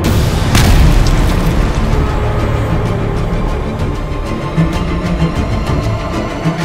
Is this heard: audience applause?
no